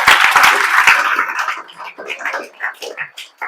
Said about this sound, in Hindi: तो इसके लिए ताली बजा दीजिए आप लोग